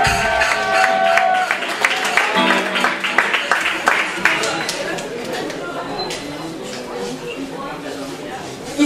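A live slam poetry audience breaks into dense, loud clapping and cheering that thins and fades over several seconds, with voices chattering through it.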